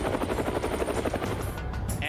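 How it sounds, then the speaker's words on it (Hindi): Z-8 military helicopter flying alongside a Chinese warship at sea, a steady rotor chop with dense rhythmic pulsing that holds loud and close for the full stretch, with a faint voice-like layer mixed in. "इसके साथ Z-8 हेलीकॉप्टर भी है"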